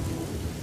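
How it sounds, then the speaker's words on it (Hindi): Heavy rain with a low rumble of thunder, a steady dense wash of sound in a brief burst with no voices. "क्या पता बारिश रुक जाए तो 100-200 की दिहाड़ी मार लेंगे"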